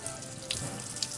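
Water is poured over a wound on an iguana, a steady splashing trickle like a running tap, close and continuous with faint drips.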